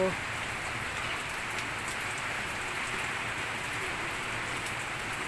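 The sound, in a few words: rain falling, not strong but continuous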